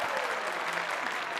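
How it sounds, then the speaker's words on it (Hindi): A casino crowd in London breaks into applause, a brief, steady burst of many hands clapping in a film scene, with faint voices mixed underneath. "तालियां तालियां।"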